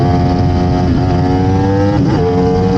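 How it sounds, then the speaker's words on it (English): A Yamaha R1 sport bike engine runs loud and close as the quick shifter cuts the ignition without changing gear, with a steady droning engine note that dips briefly and shifts pitch. "The quick shifter was killing the ignition, but it wasn't changing gears."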